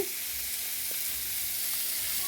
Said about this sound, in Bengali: এবার উচ্ছা কড়াইতে বসিয়ে দিয়েছি